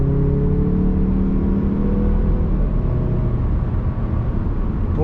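A 2022 Mazda 3 Turbo accelerating hard on a test drive, loud steady engine drone from inside the cabin with rising whir and road roar, no talk.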